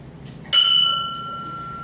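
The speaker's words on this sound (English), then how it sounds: "This is the traditional bell bronze." A traditional bell-bronze bell is struck once after a brief quiet start, giving a bright strike followed by several steady ringing partials that decay slowly over nearly two seconds.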